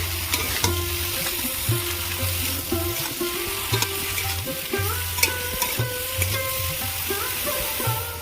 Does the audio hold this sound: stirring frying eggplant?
yes